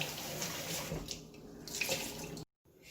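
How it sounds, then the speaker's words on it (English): Tap water runs steadily into a sink as plastic containers are rinsed out after an egg osmosis experiment, a close, continuous splashing stream with brief knocks near the end, then a sudden cut to near silence. "So then you have to wash out your containers."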